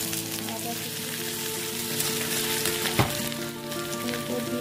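Chopped ginger sizzling and frying in hot oil for spicy chilli chicken, a steady close crackle with one sharp pop midway.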